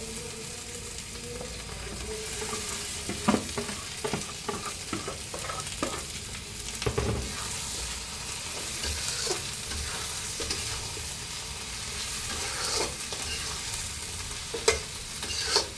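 Meat fries in a hot pan while being stirred, a constant bright sizzle punctuated by repeated scraping and clacking strokes of a utensil, close and alone with no talk.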